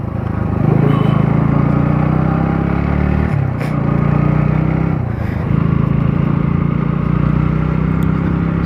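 Motorcycles riding along a main road give a loud, continuous engine drone with steady road noise, rising and dipping slightly as they cruise, close by throughout.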